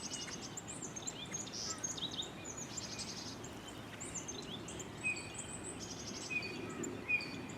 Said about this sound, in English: They must have built a nest in there, and those birds are getting really upset.